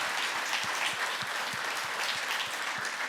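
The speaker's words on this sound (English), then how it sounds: "Give him one more round of applause, please." An audience at the PyData Amsterdam 2024 conference applauds after a technical talk on Polars 1.0, a steady, moderately distant round of many hands clapping, with occasional sharper individual claps standing out.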